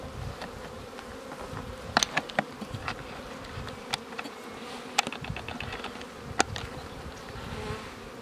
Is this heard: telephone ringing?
no